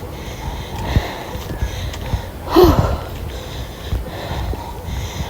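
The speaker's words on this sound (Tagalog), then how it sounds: "Grabe yung hingal ko mga bebes." A person breathes heavily after a walk along a partly unpaved path, with rhythmic, close panting, sniffs and short gasps, and one louder breathy catch midway.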